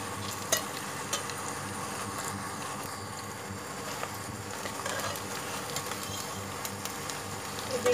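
Ginger and garlic frying with onions in hot oil in a pan while cooking mutton keema, a steady close sizzle with occasional stirring clicks throughout, no talking.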